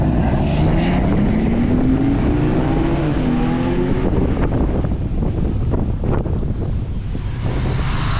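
Porsche 911 Turbo and 944 driving away from a Porsche gathering, engines rising in pitch as they pull off, heard loud and close behind heavy wind noise.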